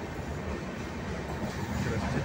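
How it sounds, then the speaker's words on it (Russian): A sleeper-class passenger train rolls along in India, a steady broadband rumble and rattle heard from inside the carriage, continuous and moderately loud with no talk. "Все, я в поезд сел."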